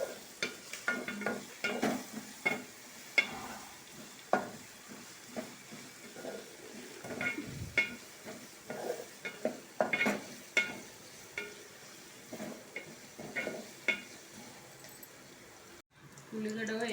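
Sliced onions and red chillies fry in a pan under repeated scraping and tapping strokes of a stirring spoon over a soft sizzle, with a voice heard at times.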